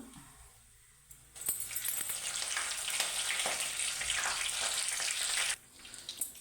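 Curry leaves and chilies hit hot oil with spluttered mustard seeds, a sudden loud sizzle that crackles and spits steadily for several seconds, then cuts off abruptly.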